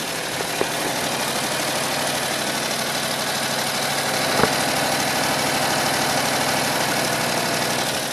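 A Predator 670cc V-twin engine idles steadily on both cylinders, a loud, even mechanical drone with a faint knock and a single brief click partway through.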